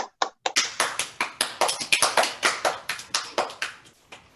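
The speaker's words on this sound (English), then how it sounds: "let's have a round of applause for Melissa" A round of applause after a recital, a small group clapping in quick, even claps that ring out clearly with no talk.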